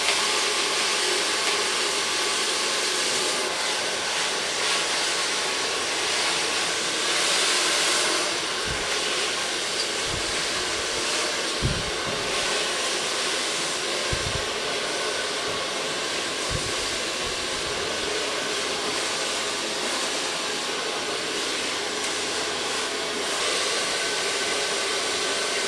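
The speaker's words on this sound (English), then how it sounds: "So far blow drying." A hair dryer blows continuously while drying hair during a cut and color session, a steady loud broadband whoosh lasting throughout, with faint low knocks and handling sounds partway through and no speech.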